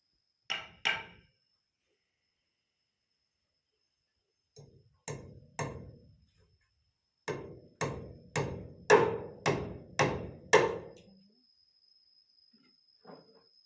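Hammering inside a cattle pen while building a feed trough for cows: two sharp blows, then a pause, a few scattered strikes, and a rapid run of about eight ringing hits, close and loud with no talk.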